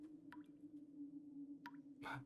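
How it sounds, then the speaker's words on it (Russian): Sparse water drips like a leaking tap in an Undertale animation, two or three soft isolated plinks over a low steady hum, followed by a brief squishy burst at the end. "А я думал, кран где-то протекает."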